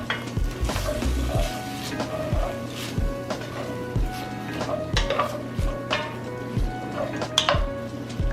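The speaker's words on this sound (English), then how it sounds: "So we're gonna let those come to a sizzle, and then I'm gonna add the rest of my onion in there" Onions sizzle gently in a pot for chicken and rice, a steady low frying hiss broken by stirring scrapes and light clinks of utensils against the pot.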